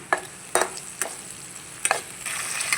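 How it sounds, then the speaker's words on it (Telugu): Ginger garlic paste sizzles in a hot pan for a restaurant-style cashew mushroom masala gravy, with a soft frying hiss broken by several sharp scraping strokes of a stirring spoon against the pan. "ఇప్పుడు కొంచెం లైట్గా అల్లం వెల్లుల్లి పేస్ట్ వేద్దాం ఒకసారి తిప్పుదాం"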